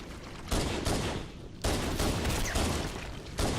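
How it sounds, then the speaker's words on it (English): Rapid pistol gunshots in a Halo game, several sharp loud bursts in quick succession over a dense battle din. "Hit him with a pistol."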